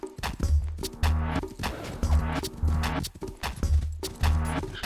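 A horse's hoofbeats in Rust Mobile clop in a steady galloping rhythm, close and fairly loud, with the pattern repeating about once a second.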